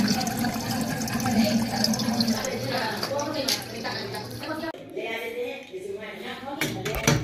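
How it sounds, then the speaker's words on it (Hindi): Water runs steadily inside a concealed wall-mounted toilet cistern with a faulty fitting, filling and draining at once as a continuous close gurgle and trickle, with a voice speaking over it. "जिससे यह पानी जितना भर रहा है उतना निकल जा रहा है"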